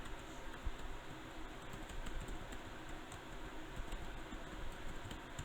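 Login details are tapped out on a computer keyboard in a quick, uneven run of soft clicks over a steady background hum.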